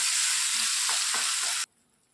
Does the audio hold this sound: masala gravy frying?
yes